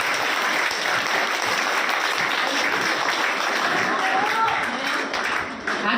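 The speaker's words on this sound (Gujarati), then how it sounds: "આપણે જોરદાર તાળીઓથી એનું સ્વાગત કરીશું." Sustained, dense applause fills a hall at a senior citizens' celebration program as an audience welcomes the performing musicians, loud and even throughout with only a slight dip near the end.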